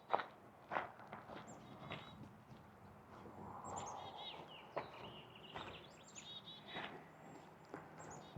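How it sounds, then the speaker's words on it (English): Faint bird chirps scattered over quiet outdoor ambience in Bozeman, Montana, mixed with soft footsteps and rustling close by. "Love hearing all these birds."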